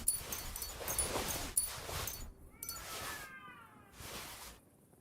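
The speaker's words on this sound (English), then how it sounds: "Oh, I hear the cats again." Cats meow in the video game Kingdom Come: Deliverance II, a couple of wavering mews heard between bursts of other game noise at moderate distance.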